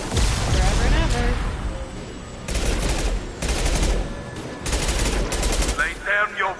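Mass Effect 2 gunfire rattles out in sustained automatic bursts, loud and close, broken by short pauses, while someone talks over the shooting.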